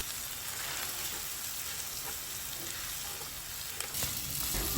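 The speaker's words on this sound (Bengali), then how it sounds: "বেশ কিছুক্ষণ সময় নিয়ে আলুটা আমাদের ভেজে নিতে হবে" Boiled mashed potato mixed with spices frying steadily in a pan, a soft continuous sizzle at moderate level with no voices.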